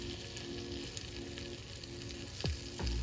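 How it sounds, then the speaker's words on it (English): Brioche slices of French toast fry in a pan with a steady close sizzle, softly crackling throughout, with a couple of brief knocks near the end. "when you start frying the first toast"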